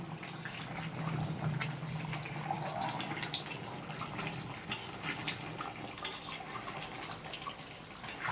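Goat meat curry with potatoes simmers in a pot after water is added, a soft continuous bubbling and watery rush at low level with faint clinks, no speech.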